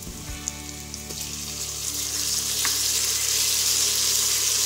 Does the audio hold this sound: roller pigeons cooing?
no